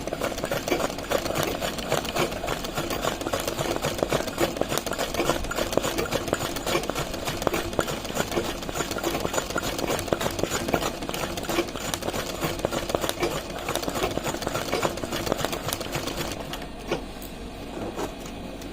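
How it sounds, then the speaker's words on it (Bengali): Embroidery sewing machine running slowly, stitching a border line design in golden thread, with a steady continuous mechanical whirr and rapid needle rhythm throughout, close and moderately loud with no talking. "আমি মেশিনটা খুব আস্তে আস্তে চালিয়ে আমি কিন্তু সেলাইটা করছি"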